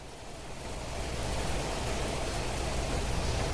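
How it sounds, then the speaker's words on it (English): Heavy rain in The Planet Crafter, a dense, steady roar of downpour that swells slightly and then holds loud and constant, with no voices over it. "The rain is super loud in this game."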